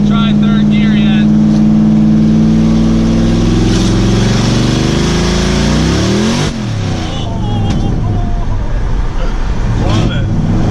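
Car with its exhaust chopped off accelerates through the gears, a loud, close, raspy engine note climbing in pitch, dropping at a shift, then climbing again, with people talking over it.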